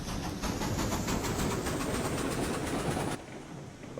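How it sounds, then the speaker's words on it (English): A game locomotive pulls away, a steady rumbling drone with rapid clacking pulses and hiss carrying along for about three seconds before cutting down to a quieter background. "definitely has a different sound than previous locomotives, that's for sure"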